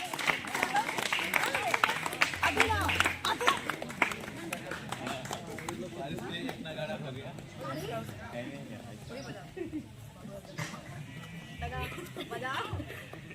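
A crowd at a village training gathering breaks into lively applause for prize-winning youths, dense and loud at first, then thinning, with voices talking throughout.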